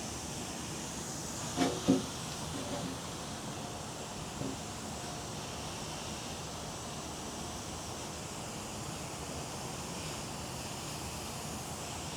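A garden hose nozzle set to mist sprays water over garden plants in August, making a steady soft hiss that runs throughout, with a couple of brief knocks near the start.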